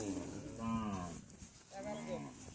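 At a cattle market in a Bangladesh–India border area, a cow lets out two close, drawn-out moos with a short pause between them, over faint background noise.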